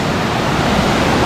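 The Maarikkuthu waterfall on the Wagamon route roars in a continuous, dense, broadband rush while rain falls, loud and close throughout, with no talking.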